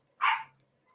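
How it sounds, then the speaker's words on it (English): A single short dog bark rings out once, sharp and moderately loud, with near silence before and after. "That's the barking you can hear."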